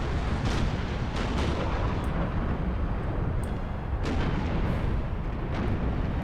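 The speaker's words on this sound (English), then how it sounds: "The big guns are starting to open up." Dense, continuous rumbling booms of naval cannon fire from ships of the line in a Napoleon: Total War recreation of the 1805 Battle of Trafalgar, with overlapping heavy blasts filling the whole stretch.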